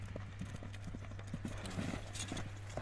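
Hooves of a Kyrgyz racing horse clip-clop in a steady rhythm, moderately close and fairly quiet over a low background hum, with no voices.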